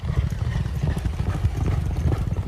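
Horse hooves clip-clop steadily and close at a Virginia thoroughbred training center with a mile-long racetrack, a dense rhythmic patter of low thuds running throughout with no talk.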